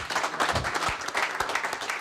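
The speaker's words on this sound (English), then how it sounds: "another round of applause" Audience applause for a speaker at a TR Register 50th anniversary gathering, a dense steady wash of clapping hands that carries on evenly throughout.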